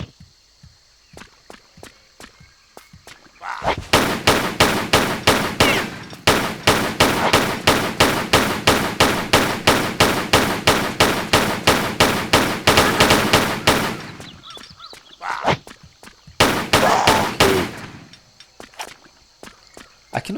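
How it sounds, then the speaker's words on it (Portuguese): Rapid pistol gunshots from the Tomb Raider 3 remaster, fired in a long unbroken burst of sharp, evenly spaced cracks, then a short pause and a second brief volley, with soft game ambience between. "Então eu vou sacar minha pistola"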